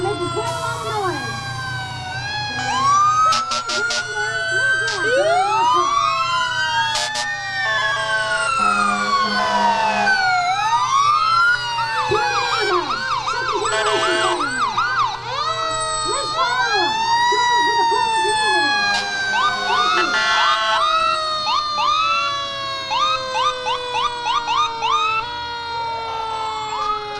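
Fire and rescue trucks in a St. Patrick's Day parade sound overlapping sirens, wailing and yelping close by, with repeated short horn blasts layered over a steady engine rumble throughout.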